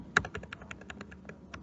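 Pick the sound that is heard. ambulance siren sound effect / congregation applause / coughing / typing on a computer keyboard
typing on a computer keyboard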